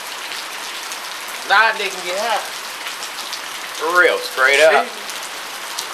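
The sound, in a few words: rain falling outside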